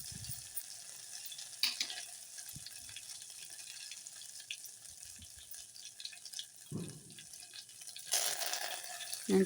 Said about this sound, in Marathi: हे मसाले छान असे परतून घेऊन